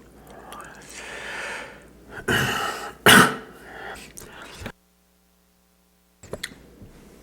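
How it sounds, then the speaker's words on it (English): A close, soft cough and throat clearing from someone whispering in a quiet room, with a sharp burst in the middle and a few fainter rasps, followed by near silence. "I'm having trouble not getting through it without coughing"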